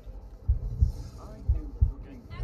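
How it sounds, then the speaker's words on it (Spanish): Low-health heartbeat effect from the video game Elyon: deep, thudding paired beats repeating at a steady rhythm, close and prominent under a faint background hum. "el latido del corazón"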